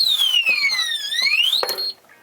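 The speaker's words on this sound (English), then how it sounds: "the alarm will go off. So it's got its own vibration sensor" A shrill electronic alarm from an ADIMO safe box's vibration sensor, wailing in a falling then rising sweep with a sharp chirp near the end before cutting off, loud and close.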